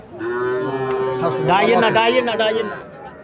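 A Sahiwal calf at a cattle market gives one long, loud moo up close that rises and wavers before trailing off, with faint market noise behind.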